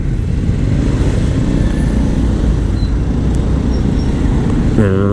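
Dense road traffic in Pasig, vehicles packed close together, a steady loud engine rumble and road noise throughout with no talking, and a rising whine near the end.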